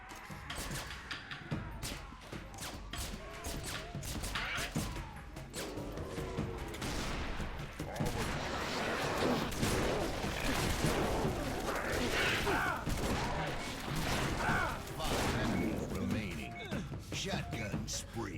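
Shotgun blasts in Halo Firefight mode boom repeatedly through a dense, chaotic battle mix of explosions and weapon fire, with voices mixed in beneath.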